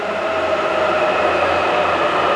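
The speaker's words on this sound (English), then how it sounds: "This train is not for Tokyo." A train pulls into a platform in Japan with a loud, steady rumble and a sustained tonal whine, close and continuous, with no voices over it.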